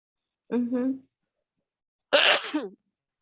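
Two separate human sneezes, a softer voiced one followed by a sharper, breathy burst, close and otherwise quiet.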